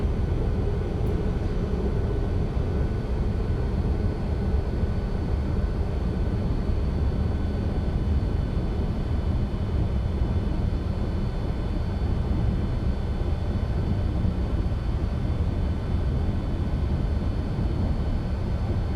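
Steady, loud jet roar from a McDonnell Douglas MD-11F freighter climbing after takeoff in X-Plane 11, a broad continuous rumble with faint high whine, unchanging throughout with no talk.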